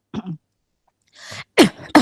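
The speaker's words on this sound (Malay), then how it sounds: "Sorry masih batuk lagi." A short cough, followed by a couple of sharper coughs or throat-clearing bursts, close and separated by brief silences.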